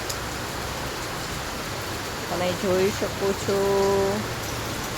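Heavy unseasonal rain falls on Mumbai under cloudy skies, a continuous soft hiss of drops beneath someone speaking in short phrases near the end.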